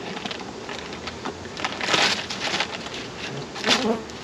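Bees buzzing continuously up close, the drone swelling louder in a few passes as insects move near, with no voices.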